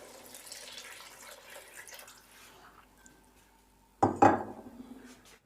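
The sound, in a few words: water poured into a pot for cooking pulao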